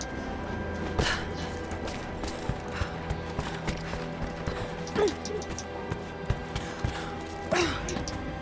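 Crank mechanism turning in the video game Rise of the Tomb Raider: dense mechanical grinding and ratcheting with creaks and a few heavy clunks, steady and fairly loud over a low rumbling bed.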